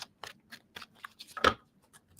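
A tarot card deck shuffled by hand in quick, close bursts of riffling and flicking, several brisk strokes with one louder sweep near the middle, in an otherwise quiet room.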